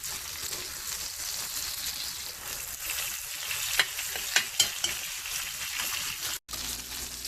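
Steak fries in butter in a hot pan, a steady close sizzle and crackle with a few sharper spits and pops, and no talking.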